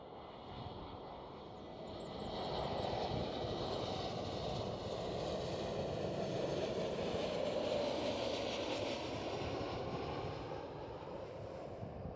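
JetBlue Airbus A321neo at Schiphol Amsterdam, a broad, steady jet roar that swells and holds for several seconds before easing slightly, moderately distant.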